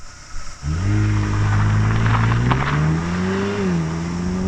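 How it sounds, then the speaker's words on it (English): A 2020 Mercedes-AMG GLA 35 4MATIC's engine and exhaust roar while driving. After a brief quieter moment the engine note swells and climbs steadily, then dips and holds, loud and close. "You want the exhaust and the engine to make most of the noise in an AMG car."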